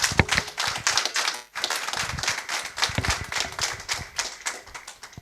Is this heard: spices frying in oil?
no